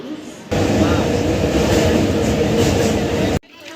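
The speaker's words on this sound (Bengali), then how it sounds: "আমার ট্রেন চলে এসছে দেখতেই পাচ্ছ তোমরা" A loud, broad rumble of a train arriving at a station close by, starting abruptly and cutting off just as suddenly, with a voice faintly heard afterward.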